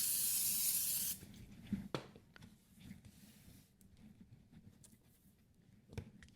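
A single steady burst of spray hissing for about a second, then quiet shuffling and a couple of faint knocks.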